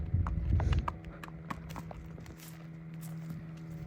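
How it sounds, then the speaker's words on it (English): An 11-year-old 14.2-hand gaited saddle horse gelding walks along, its hooves clip-clopping in a steady, close rhythm, with a heavier scuffle near the start. "This horse, if you point his head, he will go."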